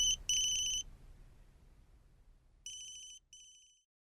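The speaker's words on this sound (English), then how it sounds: "Marina, your phone! It's ringing" An electronic phone ringtone chirps in two short bursts, pauses through a quiet stretch, then rings again in two more bursts, bright and fairly close.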